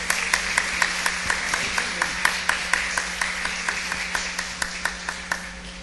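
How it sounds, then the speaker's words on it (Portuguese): Congregation clapping during a Sunday morning church service, a regular rhythmic beat of hands under a steady low hum, moderately close and fairly even throughout. "uma salva de palmas que eles merecem"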